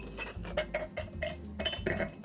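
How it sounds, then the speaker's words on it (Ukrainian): Ice cubes dropped into a wine glass for a Chartreuse and grape Fanta highball, a quick series of close, bright clinks and knocks, about five or six separate impacts with no talking. "Окей, додаємо лід"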